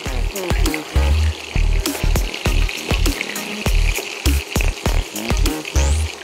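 Chicken fries in a pan just after being flipped, with a loud, continuous crackling sizzle broken by repeated heavy thumps and pops close by.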